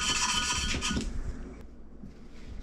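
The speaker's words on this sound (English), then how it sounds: "the whole purpose of lapping these is literally just to very lightly sand the edges of the valve to the mating surface" An engine valve is lapped against its seat with grinding grit, giving a continuous close gritty rubbing and rasping that swirls back and forth and eases slightly toward the end.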